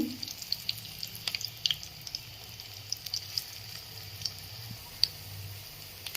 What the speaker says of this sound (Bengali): দেখতেই পাচ্ছেন কি সুন্দর তেলগুলো ফুটছে।